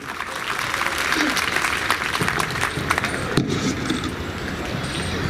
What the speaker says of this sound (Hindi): कृपया मंच पे अपने भाषण के लिए आएं और जोरदार तालियों से उनका स्वागत करें साथियों।